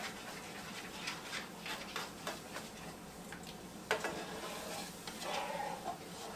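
Roux-based gravy for a Cajun pork chop casserole simmering in a pan: a soft steady bubbling hiss with occasional light stirring clicks and a pan tap, quiet and close, no talking.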